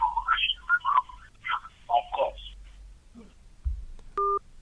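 A single short telephone dialing tone sounds on a radio call-in line, following a stretch of talk over a low hum and then a brief pause.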